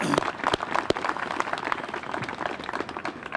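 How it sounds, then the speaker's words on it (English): Audience clapping at a Veterans Day parade event, a dense round of applause from a gathered crowd with sharp individual claps standing out, fairly steady and close throughout. "I just would ask all of you to join me in a round of applause for David"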